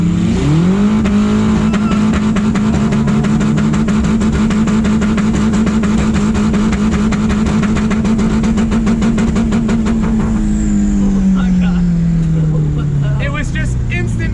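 A quad-turbo car accelerates hard off the line in a drag race, its engine note rising into a loud, sustained roar that holds steady for about ten seconds, then winds down and fades as the car eases off.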